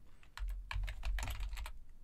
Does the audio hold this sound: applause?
no